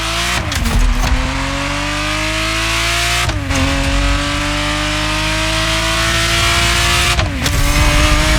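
A Ferrari Testarossa revving in The Crew Motorfest racing game, a loud, sustained engine note that climbs in pitch, drops sharply at each gear change, then climbs again, with no voices.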